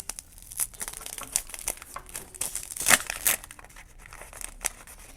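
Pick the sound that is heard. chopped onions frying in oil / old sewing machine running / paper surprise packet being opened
paper surprise packet being opened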